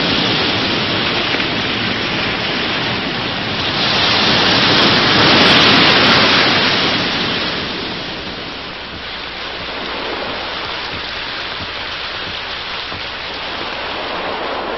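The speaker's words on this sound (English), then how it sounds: "over the sound of the rain, he seems to hear the breakers from beyond the dune" Heavy rain pours steadily through a storm at night near coastal dunes, a dense, loud wash of hiss that swells midway and then eases slightly, with no voices.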